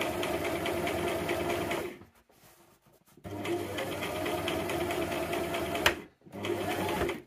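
A sewing machine stitches fabric into a scrunchie tube in two loud, steady mechanical runs, broken by a short pause and a brief sharp click before a final burst.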